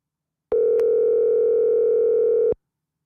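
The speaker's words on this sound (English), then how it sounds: "All right, Doc, we're calling you." A single telephone ringing tone sounds for about two seconds, a clean, steady electronic hum that starts and stops abruptly, standing alone against silence.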